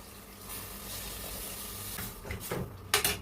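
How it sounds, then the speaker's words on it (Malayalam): Water poured into a hot pan of spiced butter chicken masala with kasuri methi sets off a close, steady sizzle that swells into louder hissing bursts near the end. "കുറച്ച് വെള്ളം ഒഴിച്ചു കൊടുക്കാം."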